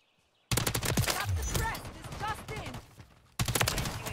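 Rapid bursts of gunfire from a multiplayer match of Call of Duty MW3, loud and close, crackling almost continuously over a few seconds with a short pause before a final volley.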